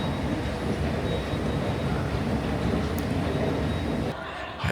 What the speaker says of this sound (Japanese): 今から広州地下鉄4号線に乗ります。